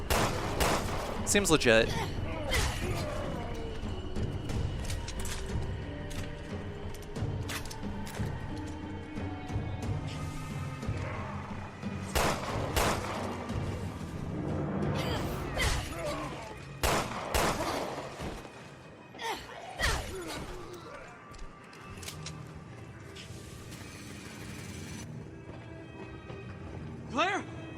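Gunfire from shooting enemies in Resident Evil Revelations 2 on PC, repeated sharp shots scattered through a busy game soundtrack, with someone talking over much of it.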